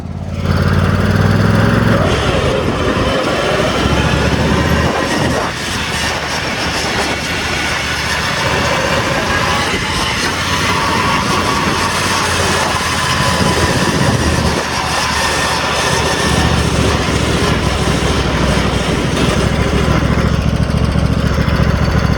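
Racing lawn mower engine roaring steadily up close while driving along a main road, loud and continuous with slight rises and dips in revs throughout.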